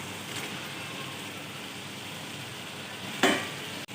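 Fried potatoes and eggplant with spices being stirred in a hot pan, a steady close sizzle throughout with a louder scrape of the spoon near the end, no talking.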